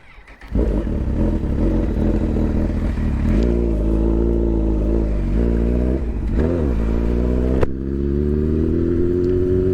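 A motorcycle engine revving hard during wheelie practice: it starts up loud and close, then rises and falls through repeated throttle blips before settling to a steadier drone.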